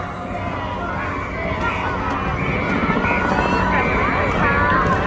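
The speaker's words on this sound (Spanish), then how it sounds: "Un saludo, amigo, al helicóptero que está ahí arriba." A helicopter flies overhead at an outdoor festival, its rotor drone rising beneath loud crowd shouting and chatter.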